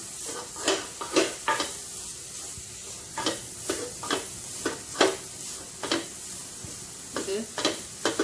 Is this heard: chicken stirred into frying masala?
yes